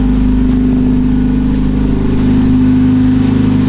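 A Honda Civic Si engine idles loudly and steadily from close range while its wheels spin, with a constant low rumble and a faint rhythmic ticking above it.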